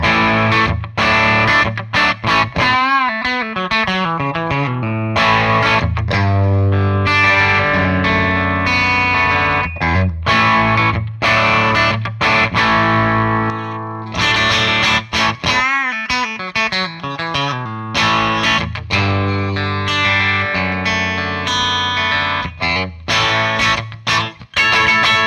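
A Harley Benton Fusion II HSH electric guitar with its humbucker split plays a bright, distorted, chorus-tinged passage of strummed chords and riffs, loud and continuous for about twenty-five seconds with no talking.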